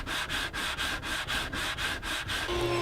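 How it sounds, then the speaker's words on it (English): A sanding beam is drawn back and forth along a wooden cigar box guitar neck clamped to a flat surface, producing close, rhythmic rasping strokes about four per second. "sand it flat using a sanding beam"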